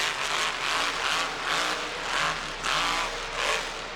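A faulty monster truck engine at a Monster Jam event revs high in repeated surges, roaring up and easing back several times in a steady rhythm, with no voices.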